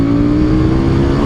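Harley-Davidson Street Rod motorcycle pulling hard in second gear, with a loud, steady engine roar heard up close in one short burst.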